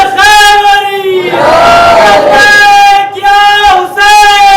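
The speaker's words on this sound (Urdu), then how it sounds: "علی کا چاہنے والا ضرور بولے گا نعرے حیدری" A crowd of mourners at a Shia majlis religious gathering loudly chants the Nara-e-Haidari slogan in unison, voices swelling together in a sustained, strong call. A lead voice is heard before and after the chorus.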